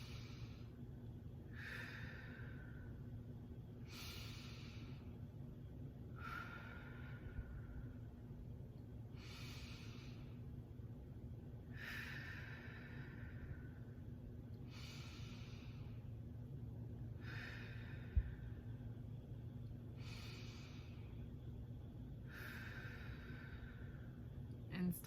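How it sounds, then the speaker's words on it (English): Slow, deep breaths in a guided breathing exercise, about nine long airy inhales and exhales at an even pace, close and clear over a low steady background hum. "we're really focusing on those breaths"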